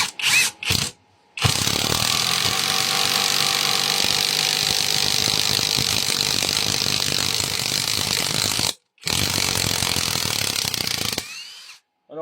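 Parkside 12 V impact driver, fitted with the same bit, driving a screw: a loud, continuous mechanical ratcheting hammer lasting about ten seconds with one brief pause, heard close and alone.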